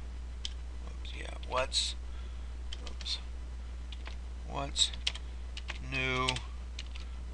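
Computer keyboard typed in short irregular bursts of crisp clicks, close up over a low steady hum, while a person speaks briefly.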